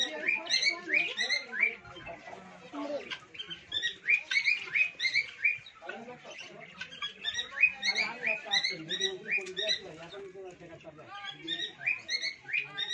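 Small birds chirp and tweet continuously in a golpata (nipa palm) mangrove forest, a busy overlapping chorus of bright calls with faint voices talking underneath.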